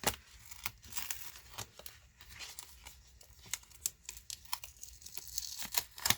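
Paper is peeled off a card during handmade light-up card crafting, giving close, quiet crinkling and tearing with irregular small crackles and taps.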